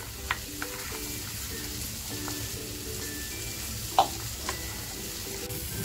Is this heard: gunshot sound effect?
no